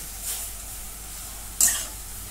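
Finely grated kashi bhopla (pumpkin) sautés in a pan with a steady, quiet sizzle and hiss. A brief, sharper burst of sizzling comes near the end as it is stirred.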